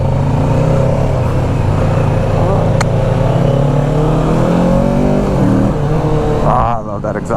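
Kawasaki Ninja 650 motorcycle engine running with a strong intake roar, a loud steady drone that rises in pitch as it revs, close up, cutting off near the end.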